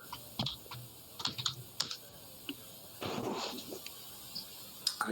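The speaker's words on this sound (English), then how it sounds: "I heard him typing." Computer keyboard typing heard at a distance through a voice chat during a tabletop game session, with scattered clicky keystrokes in short bursts and a brief louder stretch of rustling noise, fairly faint overall.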